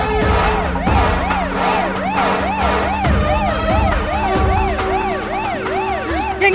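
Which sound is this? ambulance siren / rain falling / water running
ambulance siren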